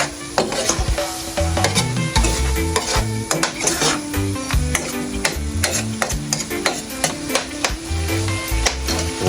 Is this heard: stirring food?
yes